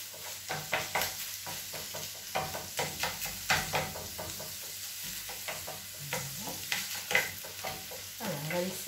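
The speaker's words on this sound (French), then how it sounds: "saisir la viande un peu fort." Ground meat for chili sizzles in a pan while a utensil stirs and scrapes it in a repeated rhythm. The close strokes come every second or so over a steady frying hiss.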